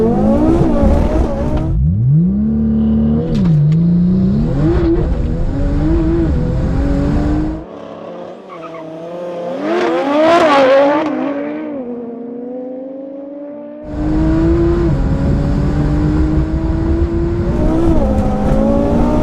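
A 1016bhp Audi RS3 and a 1000bhp Porsche 911 Turbo S drag racing on a street strip, engines revving hard and climbing through gear changes, loud and close, a brief lull mid-run, then a second roaring launch.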